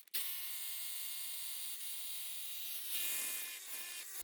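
A power drill bores a bolt hole into rock for a climbing route, a steady whining tone that holds for about three seconds and then turns into rougher grinding before it stops.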